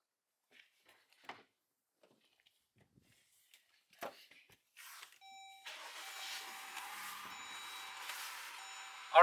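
Scattered clicks and a door thud, then a Jeep Grand Cherokee 3.6L engine turns over and settles into a steady running hum with a faint warning chime, heard from inside the car.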